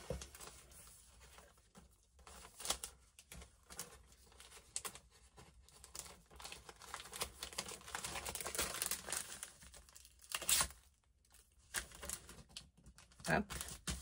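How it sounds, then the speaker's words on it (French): A small plastic bag crinkles and rustles near the microphone as a packed order is wrapped by hand, in irregular bursts of crumpling with brief pauses between them. "Et donc, je vais l'emballer avec le petit sachet."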